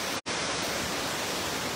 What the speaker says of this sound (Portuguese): Muita água jorrando aí no açude, do açude Araras em direção ao rio Acaraú.